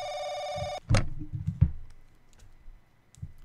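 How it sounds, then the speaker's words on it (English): A telephone rings in The Crooked Man horror game, a steady electronic trill that cuts off abruptly after under a second, followed by handset clicks and clatter and faint room noise. "Oh, the phone. Is that bitch gonna call me again?"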